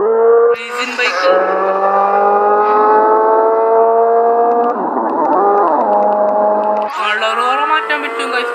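A motorbike engine in the Party Craft video game drones loud and steady as layered harmonic tones. Its pitch dips and shifts midway, then rises into a higher revving whine near the end.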